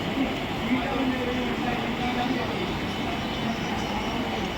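A Mumbai local train rumbles steadily into a station platform, a dense, loud roar of wheels and carriages continuing throughout.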